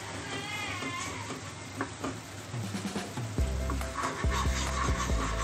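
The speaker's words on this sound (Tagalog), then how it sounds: "So guys, kumukulo na yung sugar" A pan of sugar syrup for Filipino pilipit bubbles and sizzles at a steady low boil, with occasional scraping and stirring sounds close by.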